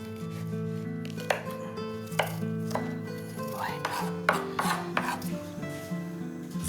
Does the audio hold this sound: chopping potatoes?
yes